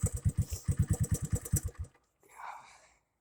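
Small engine starting and running cold at idle: a rapid, uneven chugging of loud firing pulses for about two seconds, then it stops, followed by a faint trailing sound.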